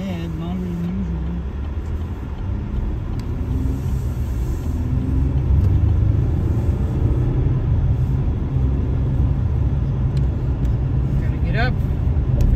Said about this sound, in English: Car moving.